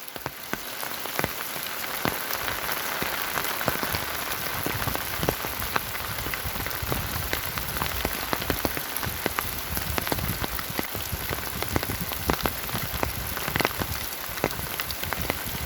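Steady rain falls on a surface in an outdoor animal pen, a dense continuous patter of drops at an even level that runs throughout, with no voices.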